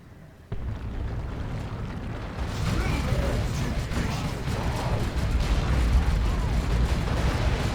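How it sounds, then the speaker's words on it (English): Rocks crushing orcs in the Dawn of War II Retribution strategy game: a sudden heavy impact, then a dense, sustained rumble of crashing debris and battle booms that grows louder and continues to the end. "Crush the orcs with all the rocks."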